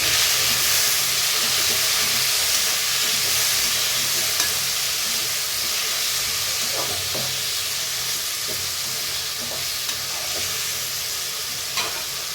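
Tomatoes sizzle and fry steadily in a hot pan for an eggplant and potato gravy, a continuous close hiss with faint scattered pops and occasional stirring clicks, no voices.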